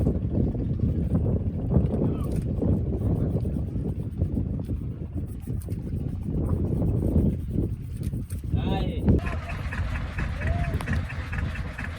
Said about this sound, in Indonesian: Kapal sudah dihidupkan